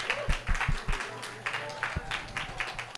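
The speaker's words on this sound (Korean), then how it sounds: "계속 박수 쳐주세요" Church youth group audience applauding at a worship gathering, with scattered, uneven claps that are fairly faint and irregular rather than a full ovation, some louder individual hand claps standing out.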